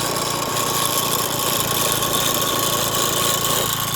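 A steady engine drones continuously at close range, a dense mechanical hum with rattling texture and no voices.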